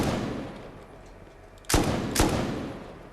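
Two loud, sharp gunshots ring out about half a second apart over a low background rumble, fired at a garage door during a raid in the video game Rust.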